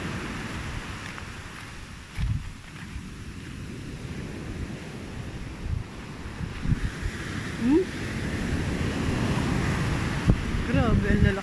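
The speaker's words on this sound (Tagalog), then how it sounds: "Grabe, ang lalaki ng alon." Big ocean waves surge and crash near the shore under steady wind buffeting the microphone, a continuous rushing roar with swells building toward the end, while a person talks faintly over it.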